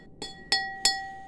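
Three clear, high-pitched clinks of a glass holding a little water being struck, evenly spaced, each ringing briefly before fading.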